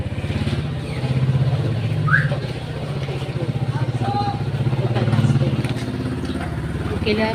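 A motorcycle engine idles steadily nearby with a low, throbbing rumble that swells slightly, while people talk over it.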